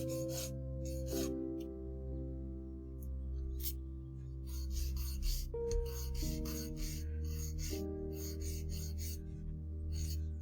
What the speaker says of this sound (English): If you hate filing, I do apologize.